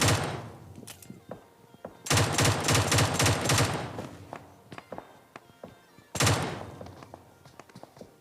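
Rapid bursts of automatic gunfire from an MK47 Mutant rifle in a shooting video game, two long loud strings of shots with a shorter burst later, separated by quieter footsteps and small thuds.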